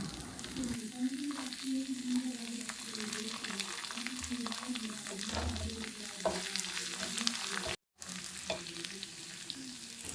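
Ginger and garlic frying in hot oil with cinnamon and coconut slices for a clam dish, a continuous close sizzle with occasional stirring scrapes and a brief break near the end.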